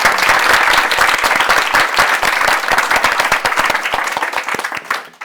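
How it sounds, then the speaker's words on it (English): An audience at a menopause awareness event applauds a panel, dense, loud clapping from a large crowd that rolls on steadily before thinning out near the end. "can we just have another round of applause for our panel?"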